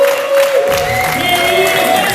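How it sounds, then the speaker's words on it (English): A boxing event crowd cheers and applauds as a promoter makes his entrance, a short burst of loud clapping and whoops close by, with a whining tone running underneath. "Let's give him a big round of applause!"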